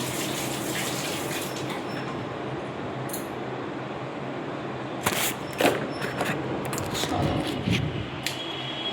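Tap water runs steadily into a bath in a home as a steady soft rush, with louder splashing and clattering bursts toward the end.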